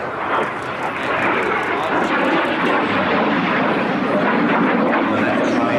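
Hawker Hunter jet flying a display at an airshow, a loud steady roar of engine noise with a commentator talking over it.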